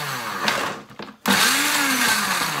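A blender chops a vegetable into couscous-like semolina, a loud close whirring motor that stops briefly and then revs up again with a rising pitch, with no talking.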